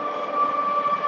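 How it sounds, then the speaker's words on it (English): A passing train gives a loud, steady rumble with a sustained tonal whine, continuous and close for the full second with no pauses. "train"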